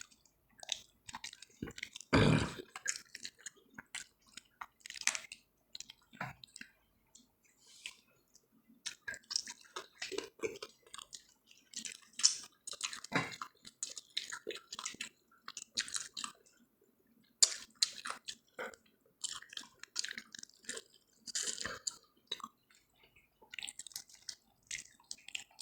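Chewing on a homemade lunch comes in close, quiet bites and wet mouth sounds, with irregular clicks and squishes repeating across the whole stretch and no talk.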